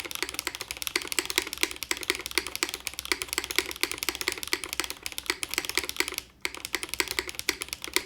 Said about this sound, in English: The spacebar is loud.